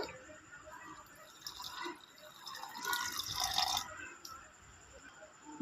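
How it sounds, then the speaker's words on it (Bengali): Water poured from a vessel onto rice and semolina, a soft splashing pour swelling mid-clip and tapering off, close and fairly quiet with no talk. "চালের সঙ্গে সুজিটাও দিয়ে দেবো স্বাদ মতো লবণ দেবো এবার দেবো জল"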